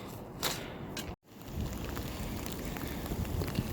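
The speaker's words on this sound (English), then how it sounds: "It is just raining away on us. I mean, it is coming down right now." Rain comes down steadily outdoors during a stormy day of bottle digging in Alabama, a dense rushing hiss with a few gusty bumps and a brief dropout before the downpour resumes.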